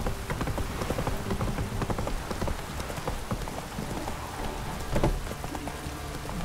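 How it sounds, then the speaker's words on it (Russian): Rain pours steadily in The Witcher 3, a dense close patter with faint horse hoof clip-clops mixed in underneath. "Дождик!"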